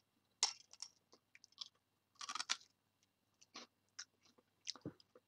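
Quiet close-up crunching of sweet puffed breakfast cereal balls being chewed, irregular crisp bites and clicks with silent gaps between.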